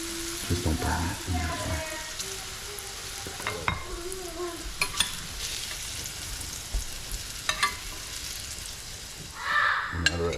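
Mushrooms frying in a pan while being stirred, a soft steady sizzle with scraping and clinking of a utensil, fairly quiet and close, with occasional background speech.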